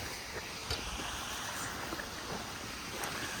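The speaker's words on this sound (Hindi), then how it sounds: "मेरे पीछे आप देख सकते हैं खूबसूरत शानदार सा यहाँ पे एक झरना भी है" A waterfall near a mountain campsite below Panchachuli Peak in Uttarakhand makes a steady broadband rush of falling water, continuous and fairly faint, with light wind buffeting the microphone.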